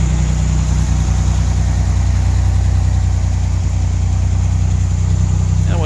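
A 1963 Corvair Monza Spyder's turbocharged air-cooled flat engine idles steadily while warming up, a close, constant low drone with an even pulsing rhythm and no variation.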